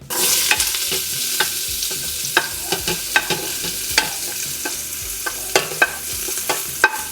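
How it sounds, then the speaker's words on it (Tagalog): Onion, garlic, carrots and onion leeks sauté together in a hot pan for beef mami, a loud, steady sizzle broken by repeated scraping stirs of a utensil against the pan, close up and with no voices. "dito ko naman igigisa yung onion, garlic, carrots, pati yung onion leeks"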